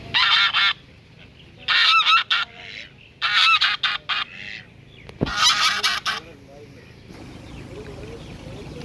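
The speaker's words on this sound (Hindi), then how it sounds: "ये बतख है जो एक टांग पे खड़ी हुई है।" A duck standing on one leg in a date palm garden gives repeated loud, honking calls in several separate bursts, with quieter pauses and background noise between them.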